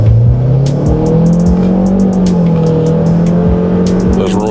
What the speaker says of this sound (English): Hear that engine roar.